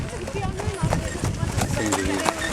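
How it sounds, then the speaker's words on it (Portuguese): Large Mangalarga horses with a smooth gaited step on an equestrian ride in Murtosa, Portugal: irregular clip-clop hoof strikes patter steadily amid a busy outdoor crowd, with people talking throughout. "alguns desses mangas largas são cavalos que fazem o chamado passo fino ou trote travado"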